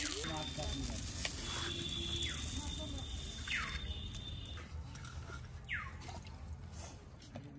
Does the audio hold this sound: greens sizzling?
yes